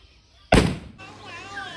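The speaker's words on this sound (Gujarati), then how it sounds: "એક હળીમાં આપણે ટેટો ફોડવાનો છે" A single Diwali-style firecracker bursts with one sharp, loud bang close by in a homely outdoor setting, followed by a short decay and a brief squeal as the noise settles.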